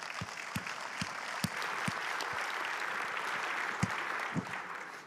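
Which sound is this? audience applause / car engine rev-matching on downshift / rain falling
audience applause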